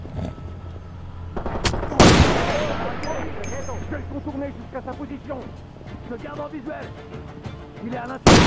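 Shotgun blasts and other gunfire in the video game Far Cry 2: a sharp loud boom with a fading tail, then scattered quieter shots and clicks, with someone talking over much of it and another blast at the end.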